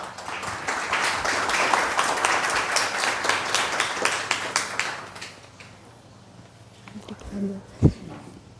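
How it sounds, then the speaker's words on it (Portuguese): Audience applause at a book launch, a dense round of clapping that fills the first five seconds and then thins out, followed by quieter room sounds and a few sharp knocks. "Uma salva de palmas."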